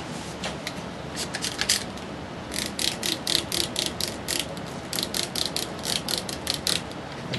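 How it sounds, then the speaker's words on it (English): Matte medium sprayed over a model railroad scrap load from a hand pump bottle, a run of short, crisp hissing bursts in quick rhythmic clusters, close and fairly loud, with no talk. "I'm going to put some matte medium down, so I'm going to spray this."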